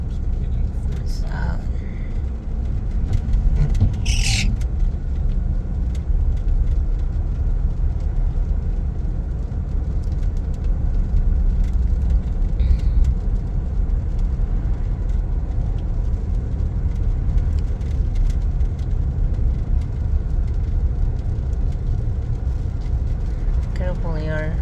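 A pickup truck driven on a road, heard from inside as a steady low engine and road rumble with occasional clicks and knocks, while people talk over it.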